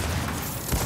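Shotgun blast in the video game Gears of War 4, a single heavy boom with a deep low-end thump late in the short burst, over dense game noise.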